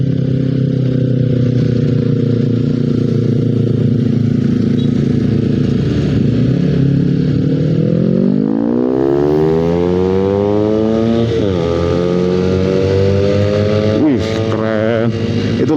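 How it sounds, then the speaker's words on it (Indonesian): Honda CBR 250 cc sport motorcycle engine on the road, a loud continuous drone with rising and falling revs and repeated pitch sweeps as the rider accelerates and shifts through corners on a mountain route. "Itulah sensasi kalau kalian pakai motor sport 250 cc gitu ya."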